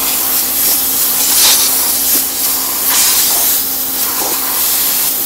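A steady, loud hissing spray cleaning dirty furnace blower and control parts runs continuously, swelling and easing in intensity, with no voices over it.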